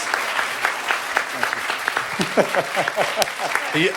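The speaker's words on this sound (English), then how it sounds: "And the applause." Brief burst of applause from a panel audience, clapping mixed with cheering and voices over a few seconds.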